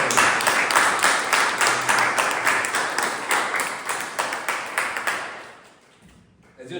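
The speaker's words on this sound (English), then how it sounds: "So, big round of applause." A Toastmasters club meeting audience claps together in dense, steady applause for several seconds, then it thins and fades out quietly.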